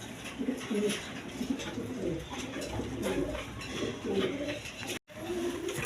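A pair of light-coloured racer pigeons at a farm give repeated soft, low coos, moderately close with some background noise.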